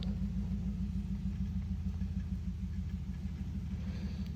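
An off-road vehicle engine idles and crawls in low gear over boulders, a steady low rumble close by and alone, with no talk.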